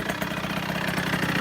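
A moped with an 85cc Top Performances kit idles steadily just after starting, a dense, buzzy two-stroke drone that stays even and close throughout.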